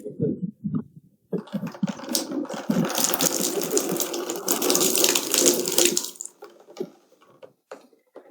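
Water gushing and splashing in a strong rushing burst for several seconds, with brief voices and knocks before and after it.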